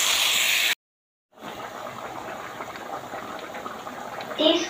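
A pan of water with pointed gourd boils with a steady, close bubbling hiss that resumes after a brief silence and continues evenly to the end.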